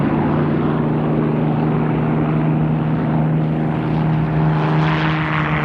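A Messerschmitt Bf-109 World War II fighter plane drones with a steady, loud propeller engine hum, an even sustained tone that swells slightly toward the end, with no voices.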